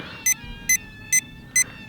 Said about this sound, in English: What's the constant beeping?